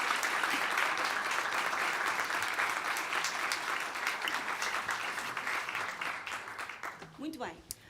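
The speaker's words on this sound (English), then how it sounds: "I think she deserves a round of applause" Audience applause at an equality event, a dense sustained clatter of many hands that thins and fades toward the end, where a voice begins.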